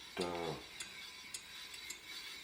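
A metal handle is screwed onto a 1930s German bean cutter, with one short ratcheting, grinding turn followed by faint clicks in a quiet room.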